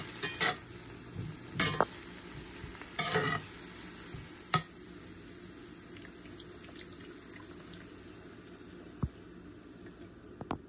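Eggs cook in a pan with a faint, low sizzle, broken by scattered clinks and utensil knocks early on and a couple of sharp taps later, with no speech.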